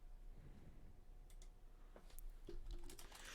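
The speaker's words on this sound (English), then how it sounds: "Sorry, just typing something out." Keys clatter on a computer keyboard in irregular bursts of clicks, fairly faint against a steady low room hum, with no voices.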